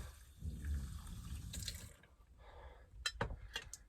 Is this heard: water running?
yes